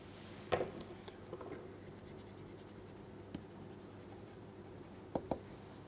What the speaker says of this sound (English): let me write the final summary here.